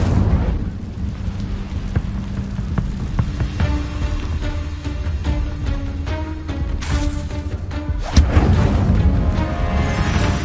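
Booming blasts of the Incendio fire spell in Hogwarts Legacy erupt repeatedly over dense game music and rumble, with a heavier burst near the end.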